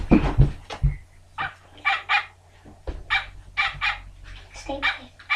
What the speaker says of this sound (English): Make him bark.